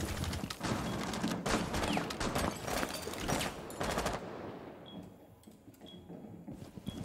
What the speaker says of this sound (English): It's a Zoe LMG at that office.